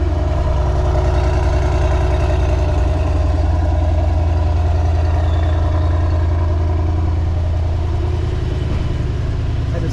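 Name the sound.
Mercedes-AMG GT63S engine start with factory exhaust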